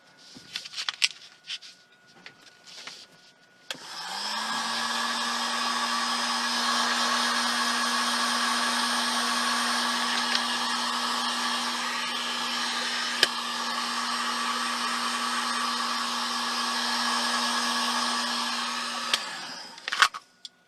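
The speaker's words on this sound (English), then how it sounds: "I'm gonna get the heat gun out. See if I can flatten this." A heat gun blows steadily for about fifteen seconds as it tries to flatten material for a DIY color-morphing light panel, a loud continuous whooshing roar with a low steady hum, preceded by a few faint handling clicks.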